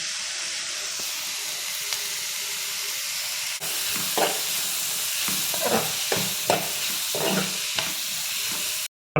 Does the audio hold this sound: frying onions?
yes